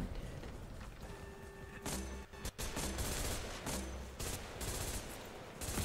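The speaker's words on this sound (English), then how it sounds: "these guys all have shotguns" Shotgun fire in the video game Army of Two: The 40th Day, a quiet flurry of sharp blasts and bursts scattered through several seconds, one short run of rapid shots standing out amid the background game noise.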